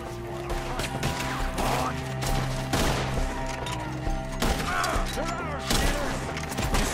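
Gunfire in the Red Dead Redemption 2 video game, aimed at enemies perched high in the trees: several loud, sharp shots spaced a second or so apart over steady game music, with shouting voices in between.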